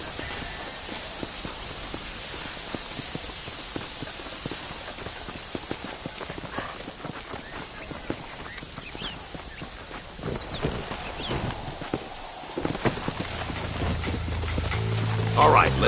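Horse hooves clip-clopping in Red Dead Redemption on PS5, a steady walking rhythm carried across the whole stretch with faint ambient game sounds and occasional speech underneath.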